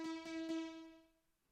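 Sawtooth synth lead thickened by an ensemble effect into several detuned voices, sounding wide; three quick bright notes ring out alone, then the sustained tone fades over about a second.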